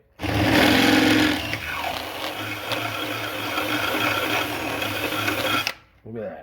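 Drill bit boring through metal lubricated with cutting oil while building a dual band stub J-pole antenna, a steady close whine running for several seconds and then stopping, with a voice speaking briefly during it.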